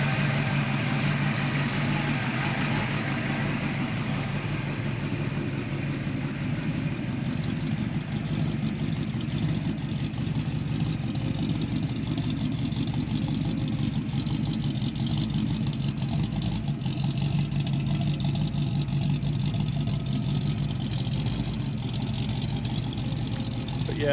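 A 1966 Ford Mustang GT idles after a cold start on its stock exhaust, a steady low engine rumble held near and constant with slight fluctuations, with faint talk in the background.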